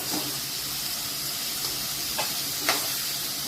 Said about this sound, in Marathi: तेल आलं बघायचं आता हे मटण टाकायचं